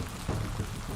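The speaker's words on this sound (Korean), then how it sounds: "텐진항 사고 3일 뒤 한국에서 비가 내리자" Rain falling in Korea, heard as a steady, even hiss of drops with a few slightly louder patches and no voices.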